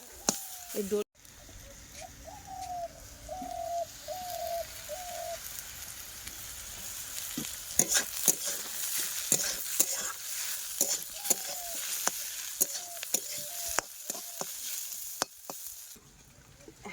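Spring onions sizzle and are stirred in a wok over a fierce stove fire, a continuous frying hiss with scattered scraping clicks, while a person talks and a dove coos in the background.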